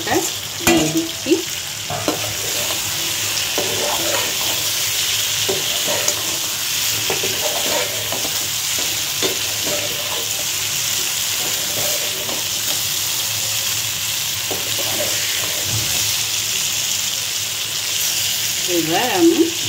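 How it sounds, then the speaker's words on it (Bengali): Green chili hits a pan of soft cooked cucumber and fries with a steady sizzle while a utensil stirs and scrapes, with a voice talking intermittently over the cooking. "এবার আমি কাঁচা লঙ্কাটা দিয়ে দিচ্ছি।"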